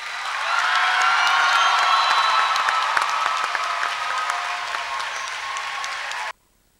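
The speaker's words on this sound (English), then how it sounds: "Let's give all of our students another round of applause." Sustained applause from a large audience at a high school graduation, steady and dense for about six seconds, then cutting off abruptly.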